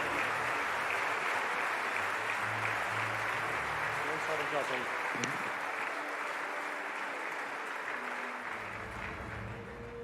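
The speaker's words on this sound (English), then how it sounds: "Let's give a big round of applause to all of our guests that have taken the time to be part of our festivities today." Sustained audience applause at an interfaith harmony celebration, a dense steady wash of clapping lasting throughout, with faint voices and murmurs mixed in beneath it.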